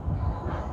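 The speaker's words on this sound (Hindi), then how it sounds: "अभी तो ये ट्रेन धाबुई रेलवे स्टेशन तक आ गया है।" A train pulling into Dhabhoi railway station in India, a steady close low rumble of rolling wheels and carriages with no clear voices.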